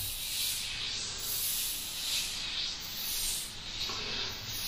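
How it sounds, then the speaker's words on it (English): A Creos PS270 top-cup airbrush with a 0.2 mm needle sprays in a steady, close airy hiss that swells and eases in a few gentle pulses as the trigger is worked. "when I'm spraying with a top cup airbrush"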